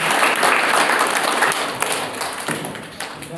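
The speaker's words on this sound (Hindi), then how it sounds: "तो हम प्रभु को बहुत जोर से ताली बजाएंगे और धन्यवाद देंगे।" A congregation at a church mission gathering in Arunachal Pradesh claps loudly and steadily, a dense, close wash of applause that fills the whole moment and eases slightly toward the end.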